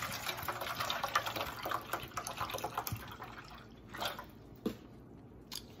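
Water pours into a pot holding a whole chicken for broth: a continuous splashing, gurgling stream that thins into scattered drips near the end, close and moderately quiet with no talking.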